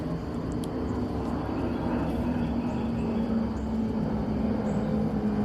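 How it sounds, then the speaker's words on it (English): Airplane passing overhead, a steady low distant drone that holds evenly throughout with no talk over it. "If you guys can pick up on that sound, that's an airplane."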